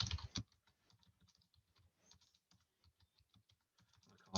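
Rapid, uneven typing on a computer keyboard while working in a spreadsheet, close and steady clicking after a brief loud burst at the start, with no talking.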